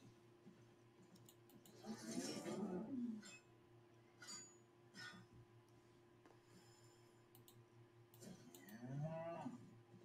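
Cows in the video game Albion Online give two low, drawn-out moos several seconds apart, with faint clicks and a steady hum in between.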